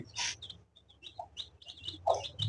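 Chickens clucking softly indoors in a house, with a few short, scattered calls separated by brief quiet pauses.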